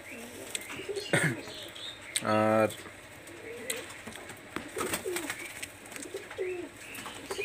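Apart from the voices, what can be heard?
Kamagar pigeons (Pakistani high flyer teddy) cooing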